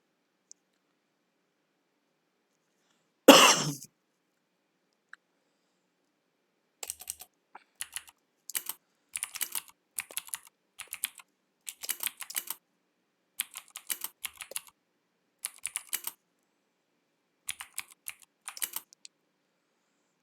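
Bursts of typing on a computer keyboard during a competitive programming session, quick clusters of close clicky keystrokes separated by short pauses, with one louder knock near the start.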